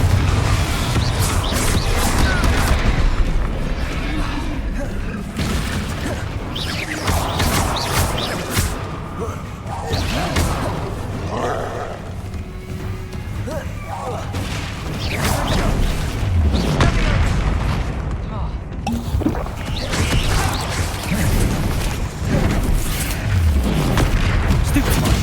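Confringo blasting spells and other combat spells explode repeatedly in a Hogwarts Legacy battle, making loud booms and crashes over a dense, continuous game soundscape, with a voice speaking throughout.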